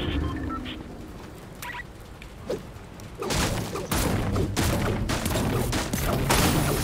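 Assault rifle fire in Fortnite zero build mode. The first half is quieter with scattered sounds, then loud rapid bursts of shots crackle continuously from about halfway through, with no talking.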